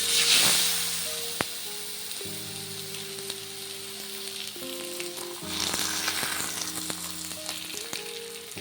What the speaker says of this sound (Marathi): त्यानंतर आपण थापलेले धपाटे यात टाकून घ्यायचे.